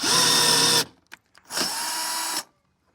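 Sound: unscrewing bolt from rivet nut setting tool

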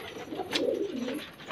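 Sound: pigeons cooing

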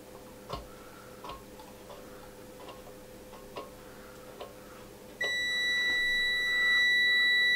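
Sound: continuity beep of a Venlab multimeter

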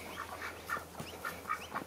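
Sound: pet ducks quacking

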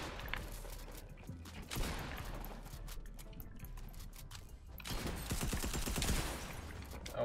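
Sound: light machine gun firing in a video game

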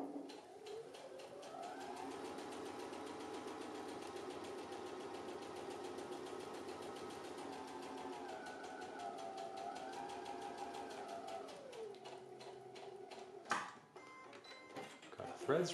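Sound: sewing machine stitching a double welt pocket

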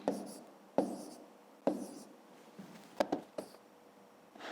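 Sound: writing numbers by hand while solving a math exercise

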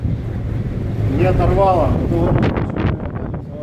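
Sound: strong wind at a port in Vanna, Norway

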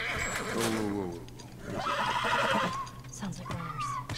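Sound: horse neighing, from a video game

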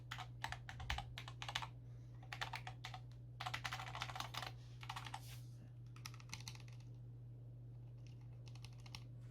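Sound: Cooler Master SK620 keyboard, Cherry MX Low Profile switches typing

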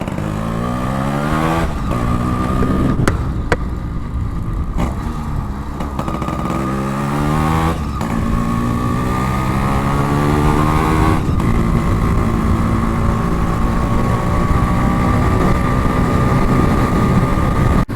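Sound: Yamaha RX 135 motorcycle engine

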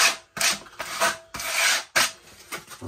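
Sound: sanding a wooden shelf edge with sandpaper

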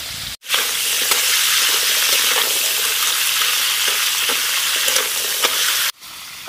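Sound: crabs and crab claws frying in hot oil

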